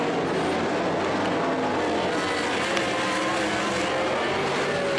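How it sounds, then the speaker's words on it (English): Sprint cars roar around a dirt oval at full race pace, with a dense, constant engine howl that holds loud and steady throughout, several cars blending into one continuous drone. "So we continue to race with the number 8 of Dave Borden showing the way"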